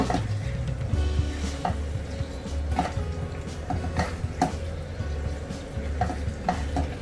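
Prawns in hot spiced oil sizzling steadily in a pan while a utensil scrapes and knocks through them in repeated stirs, close by and without voices.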